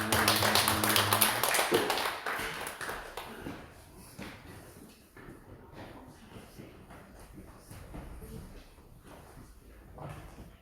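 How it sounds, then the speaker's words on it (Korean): A church congregation at a Sunday children's service claps, loudest over the first couple of seconds alongside music, then thinning into softer, scattered claps and quiet room noise. "우리 하나님께 영광의 박수 올려드리겠습니다"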